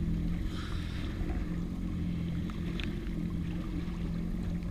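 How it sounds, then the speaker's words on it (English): A jet ski engine idles on deep water with a steady low drone, water lapping and wind buffeting the microphone, continuous and fairly close. "keep the ski idling again just to stay on the spot"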